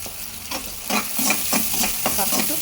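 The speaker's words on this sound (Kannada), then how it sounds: "ಹಾಕ್ಬಿಟ್ಟು ಚೆನ್ನಾಗಿ ಈರುಳ್ಳಿನ ಫ್ರೈ ಮಾಡ್ಕೊಂಡು" Onions fry in a pan with a pinch of asafoetida, urad dal, curry leaves and green chillies, while a spoon stirs them in a quick, regular scraping rhythm over a steady close sizzle, with no speech.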